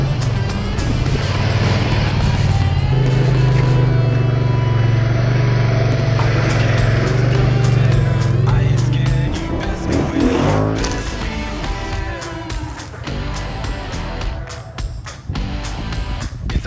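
A 2020 Polaris Sportsman XP 1000 S ATV with a 1000cc engine rides a trail, its motor droning loud and close with a sustained low roar that eases and turns rougher toward the end.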